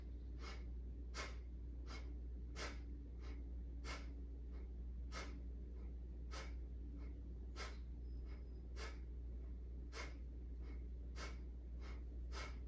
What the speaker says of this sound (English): take an exhale very forcefully through the nose by pulling the abdominals back, and then you release it and you automatically inhale